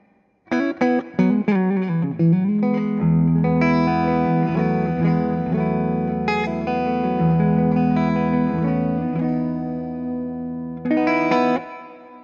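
Electric guitar through a Fractal VP4 reverb, notes ringing out with a wash of reverb, a picked phrase leading into sustained chords that linger and fade into a roomy tail.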